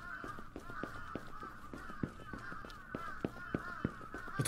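Crows cawing in the horror video game Akai Onna, a steady stream of repeated harsh caws over a rhythmic clatter of thumps, moderately loud and continuous for several seconds with no voices.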